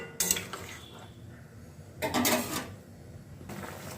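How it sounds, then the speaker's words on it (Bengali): A spoon scraping and clinking against a pot while curry is stirred and mixed, in a few separate bursts of metallic scraping with quiet gaps between them. "এটা আমি ভালো করে মিশিয়ে দিচ্ছি।"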